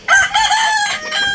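A gamefowl rooster crows once, loud and close, in a drawn-out, wavering call with no other sounds around it.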